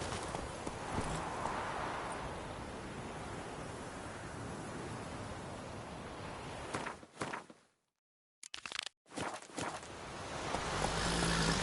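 Horse hooves trotting in The Witcher 3 on PS4, a steady clip-clop rhythm under ambient game sound, broken by a brief near-silent gap before the hoofbeats return.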